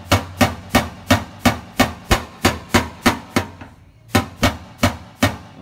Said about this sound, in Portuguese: eu pego o martelo, certo? E venho com o martelo. Ó, passo o martelo, igualzinho a ferramenta, ó.